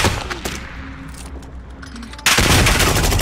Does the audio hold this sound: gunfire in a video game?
yes